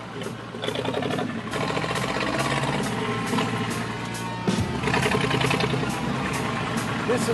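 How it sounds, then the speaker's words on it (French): A 1938 Big Block V8 car engine runs at a steady idle with a rough, continuous rumble, fairly close, while someone talks over it. "Écoutez-moi ce petit bébé. C'est un Big Block V8. Ce moteur a 70 ans."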